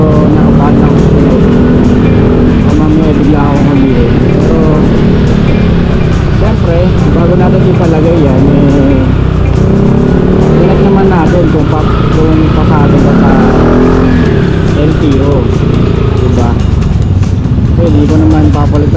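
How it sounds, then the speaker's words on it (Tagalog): A loud aftermarket muffler on a motorcycle roars steadily and close by, with a deep, full exhaust tone that rises and falls slightly throughout. "Hindi ako sanay na ganyan kaingay yung muffler ko, na buong-buo yung tunog."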